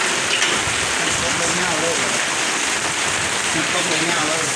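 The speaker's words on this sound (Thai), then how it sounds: "ทำงานแข่งกับฝน" Rain falling steadily on surfaces outdoors during a satellite dish installation, a dense, even hiss of drops that stays loud and constant throughout.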